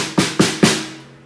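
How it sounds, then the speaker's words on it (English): Three quick, crisp hits on a drum-kit snare drum with the snares on, a buzzy rattle of snares, evenly spaced and close, the last one decaying briefly. "You can play them with the snares on and it sounds like this"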